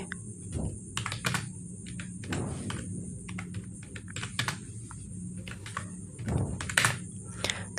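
Taps on a mobile phone's on-screen keyboard while a search is typed into a browser search bar, a run of light, irregular clicks close to the mic over a steady faint hum.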